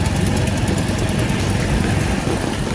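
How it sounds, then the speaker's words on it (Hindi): Motorcycle engine running steadily while riding on a road trip in Delhi, a continuous close, loud drone with constant low rumble and no clear speech over it. "जैसे ही मेरी बाइक बहुत स्मूथ चल रही है अभी फ़िलहाल"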